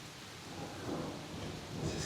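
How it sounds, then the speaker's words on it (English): A thunderstorm with rain sounds as a steady, close wash of falling rain with low rumbling swells, quiet and without speech, heard outdoors during a home workout. "Oh, what an experience working out in a storm like this."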